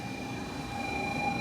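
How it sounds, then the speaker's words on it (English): Interior rumble of a Shinkansen bullet train travelling from Hakata Station in Fukuoka to Kumamoto, a steady low roar with a faint high whine, heard from inside the carriage without talk. "We're on the Shinkansen from Fukuoka, Hakata Station to Kumamoto."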